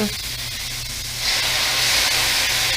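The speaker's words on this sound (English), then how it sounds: "I'm gonna add in my wine" White wine hitting a hot pan of cooked-down tomatoes, a broad loud hiss and sizzle that swells and stays steady after the first second, with no talk.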